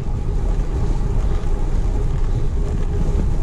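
Strong wind buffets the microphone outdoors during a long-distance cycling event in the Drôme Provençale, a continuous loud low-frequency rush with no talk.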